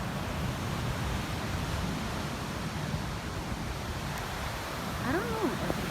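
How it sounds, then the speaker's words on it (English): Ocean waves on a beach at Swakopmund, Namibia, a continuous soft wash of surf with breezy hiss, heard from nearby at low level, with a brief faint voice near the end. "Can you hear the wonderful sound of the water?"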